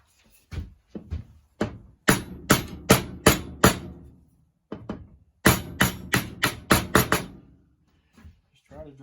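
Hammer tapping a Kubota mower spindle part into place, sharp close metallic blows in quick rhythmic runs of four to six strikes separated by brief pauses and lighter knocks.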